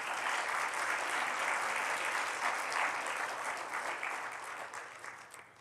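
A church congregation claps together during a Spanish-language sermon. The dense, sustained applause holds steady at moderate volume and then tapers off toward the end.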